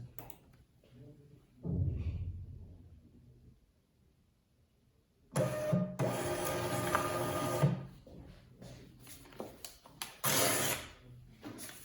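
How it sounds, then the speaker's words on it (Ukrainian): An Xprinter printer connected over Wi-Fi runs a test page: a quiet start with a brief thump, then several seconds of loud mechanical whirring and feeding, a pause, and another short burst, close by with no talk. "Зараз спробуємо надрукувати е, на нього пробну сторінку"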